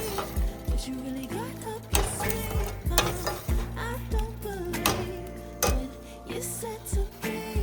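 Okra stirred in a tangy yogurt sauce in a pot, with a spoon scraping and knocking in a steady, repeated rhythm over a soft sizzle, close and moderately loud, with background music underneath.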